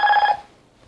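A short electronic tone from a callbox speakerphone sending a push-to-talk signal to a walkie-talkie: a single bright beep lasting about a third of a second, close and clear, followed by quiet.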